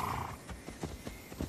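Pegasus hooves clip-clopping in the video game Immortals Fenyx Rising, a quick series of moderate thuds at an even gait after a short whinny-like tone at the start.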